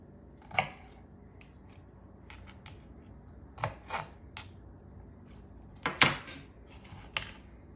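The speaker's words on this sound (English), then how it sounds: "I'm going to finish chopping up the broccoli." A knife cuts through broccoli stems on a cutting board while cheesy broccoli soup is being made, with a few separate sharp chops and crunches spread out among quiet pauses.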